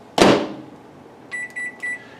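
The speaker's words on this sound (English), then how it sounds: "I can stick it in the microwave and just let it superheat in the microwave." A microwave oven warming crystallized honey for mead brewing: a sharp clunk of the door or button, a quiet hum, then three short electronic beeps close by.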